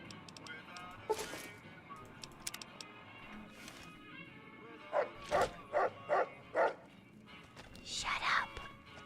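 A dog in Fallout: New Vegas gives a quick series of five short barks midway, with faint whimpers and game ambience around them, while a soft voice murmurs beneath.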